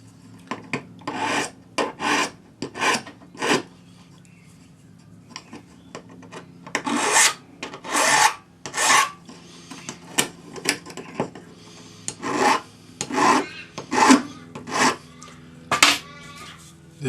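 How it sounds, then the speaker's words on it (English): Rhythmic rasping strokes of a No. 2 cut flat hand file following the curve of a metal leaf edge, repeated steadily in short bursts with brief pauses, close and fairly loud. "Follow the curve with your number 2 cut flat hand file."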